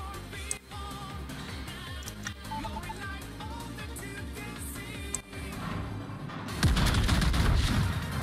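Warship secondary guns fire in a naval video game as a rapid rolling barrage of shots. Heavier booms follow, and a louder burst of gunfire comes near the end, all dense and continuous over background game music.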